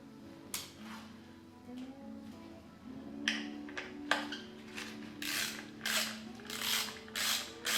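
Small screws being driven by hand with a screwdriver into the water pump cover of a DRZ 400 motorcycle, giving a series of close ratcheting clicks and short creaking turns with brief pauses between.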